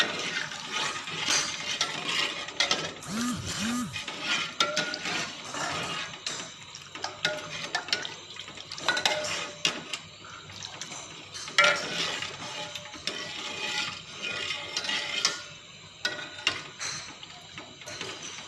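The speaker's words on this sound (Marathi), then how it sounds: "सतत आपण हलवत राहायचं आहे" A spoon or ladle stirring chicken curry (white rassa) in a pot, with scraping and clinking against the metal, soft sizzling underneath, and uneven rhythmic strokes with short pauses over a long stretch.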